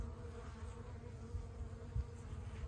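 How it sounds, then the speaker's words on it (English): Honey bees crowd beneath a feeder tin at a hive during a winter feeding with sugar and pollen patty, making a steady, close, low buzzing hum that runs continuously without pause. "Look at them underneath the feeder tin. Lots of bees."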